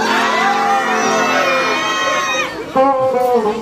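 A crowd at a live band show roars with loud, sustained cheering and high whoops during the introduction of the band members, ending in a brief final burst of shouting.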